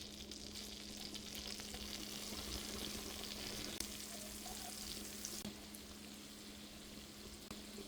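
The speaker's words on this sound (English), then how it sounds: "In a dry pot, add in butter, add in the shrimps" Shrimp frying in butter in a pot, a soft, even sizzle with light crackle that holds steady and drops slightly near the end, faint and alone with no talking.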